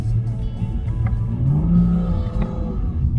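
A car with a Valvetronic engine accelerates hard, its revving rumble rising steadily and close in a continuous pull with no talking.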